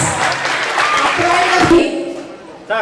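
An audience at a children's workshop claps as a Nobel Peace Prize laureate is honoured. Dense applause fills the first two seconds under a speaking voice, then fades to quieter talk, with a short burst at the end.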